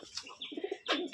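Rajshahi Giribaz pigeon, a green female, gives a few soft, close coos and chirpy calls in a short burst, with no one talking.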